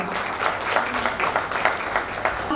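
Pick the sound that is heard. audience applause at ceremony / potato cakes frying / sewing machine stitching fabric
audience applause at ceremony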